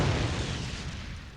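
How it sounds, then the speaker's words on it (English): An explosion in the video game Tales of Innocence R, a steady loud boom and rumble filling the whole short stretch, dense and low, with no voices over it. "It's explosion time."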